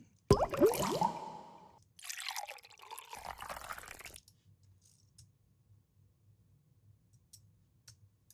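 Designed liquid sound effect of a dark fluid draining out of one shape and filling another: a loud gurgling, bubbling pour followed by a second sloshing fill, then sparse soft drips over a low hum.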